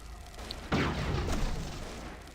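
Cannon fire strikes an airship in the game Airships: one sudden heavy boom, fairly faint, followed by a rumbling decay that lingers to the end.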